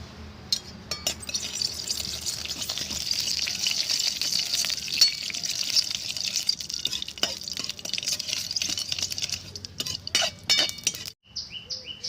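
Mustard seeds crackle and spit in hot oil in a wok, a dense close sizzle with sharp pops and a few metal clinks, ending abruptly.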